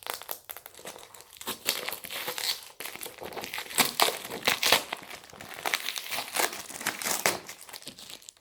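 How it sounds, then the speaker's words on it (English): Plastic wrapping and tape being peeled and crinkled off an American Optical Original Aviator sunglasses box, a steady close run of loud crackling and tearing with no voices. "I'll just open the rest of the plastic that I hadn't opened up yet"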